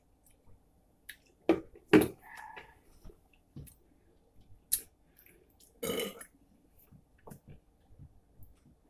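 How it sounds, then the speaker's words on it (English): A loud belch rises over a quiet room, followed a few seconds later by a second, shorter burp, with faint clicks and small mouth sounds scattered around them. "Fine, rate that belch."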